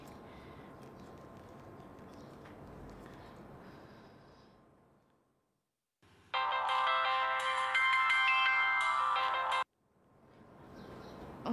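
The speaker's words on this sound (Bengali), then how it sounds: "রিং হচ্ছে, ফোন তো ধরছে না।" A phone ringtone plays loud and melodic for several seconds, then cuts off unanswered, set between stretches of quiet room noise and faint breathing.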